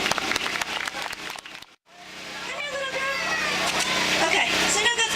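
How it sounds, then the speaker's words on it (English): An audience at L'Oreal's 2010 dog performance event bursts into applause after a short pause. The clapping swells and holds loud, with crowd chatter mixed in, following earlier talk. "Big round of applause for these ladies, everyone."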